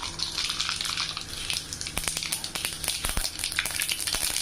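Mustard seeds crackle and pop steadily in hot oil, with sharp irregular spatters over a continuous sizzle, close up.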